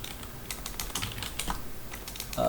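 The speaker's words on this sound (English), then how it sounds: "typed in create schema" Fingers typing on a computer keyboard: a quick, irregular run of light clicking keystrokes, fairly close and moderately quiet, with no talk.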